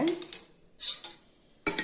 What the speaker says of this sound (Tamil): போட்டு நல்லா கலக்கி விட்டுக்கலாங்க